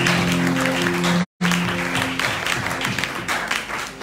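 Congregation clapping together during a French-language church service, a dense, loud wash of applause that breaks off for a split second and then carries on, with some voices mixed in.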